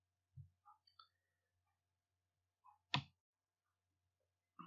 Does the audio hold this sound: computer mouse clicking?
yes